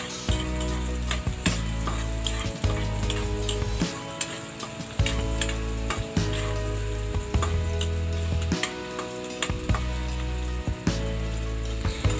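Chopped garlic and onion sauté in hot oil for sweet and sour tilapia, giving a steady, fairly loud sizzle that runs unbroken through the whole stretch with no talking.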